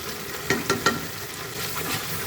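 Spiced masala with cashews sautéing in hot oil in a covered pan for a mixed vegetable curry, a steady close sizzle with a few sharp spattering pops near the start.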